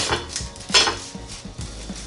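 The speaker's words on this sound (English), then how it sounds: "now I'm going to just take and do a slice right down the middle of this big one" A knife cuts down the middle of a big baked potato from an air fryer oven, giving a few short close scrapes and taps against a plate or pan, with no voices.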